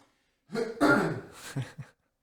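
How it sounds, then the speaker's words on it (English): A person coughs several times in a rough, throaty burst close to the microphone, ending in a couple of short hacks, with no talking. "one sec, I got a cough"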